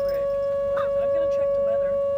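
Steady outdoor warning siren holding one sustained tone throughout, fairly loud and continuous, with a brief voice or rise in the middle and the tone cutting off at the end.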